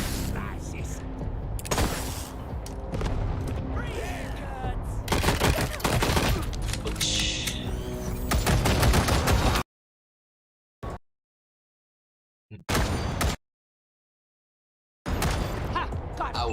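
Gunfire from the Wasteland video game comes in dense, continuous bursts of rapid shots for several seconds, then short isolated blasts separated by silence, with a player's voice talking over parts of it.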